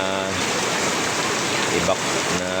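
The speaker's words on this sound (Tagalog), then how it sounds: "Ito, bumuhos na naman guys." Heavy rain pours down steadily in a flood-prone port area, a loud, even hiss of rainfall close by with no talking.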